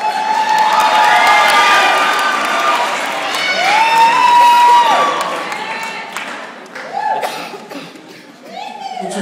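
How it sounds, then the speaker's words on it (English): An audience at a Tropical Nights 2011 Tahitian dance performance cheers, whoops and applauds, a dense crowd roar with high shouts and whistles rising and falling throughout. "Clap for yourselves."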